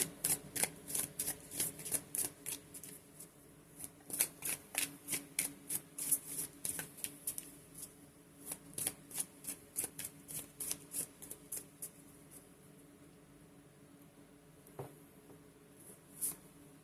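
Tarot cards being shuffled by hand up close in a soft, quiet setting, with rapid rhythmic riffling bursts repeating steadily before thinning out toward the end, no talking.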